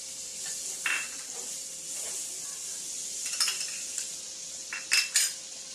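Paneer cubes frying in melted butter in a pan, a steady soft sizzle underneath a few clinks and scrapes of a utensil against the pan, with brighter clatter near the end.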